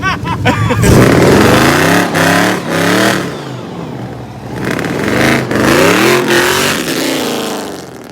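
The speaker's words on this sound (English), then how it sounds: "do a burnout for the vlog one time" Engine of a 1997 V6 Mustang revving hard during a burnout, loud and close, with rising and falling surges and some tire noise; brief voices at the start.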